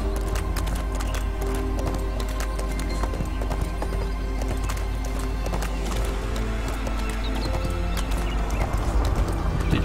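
A horse gallops in the video game ArcheAge, its hooves drumming in a fast, steady clip-clop rhythm for the whole stretch, loud and close, over a constant game background.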